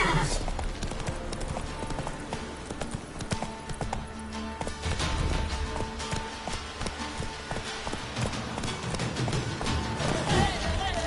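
Roach the horse gallops in a video game, a fast, steady clip-clop of hooves close by that runs throughout, with faint background clatter and no clear talk.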